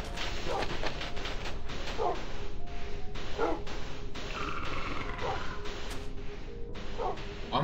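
Dogs in the video game Minecraft barking and yipping repeatedly in short bursts, close and loud, over a steady game background hum.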